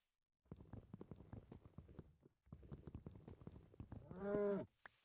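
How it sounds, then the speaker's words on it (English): A cow moos once near the end, a loud drawn-out low call close by, after a stretch of clopping, footstep-like knocks. "Mooing in this economy?"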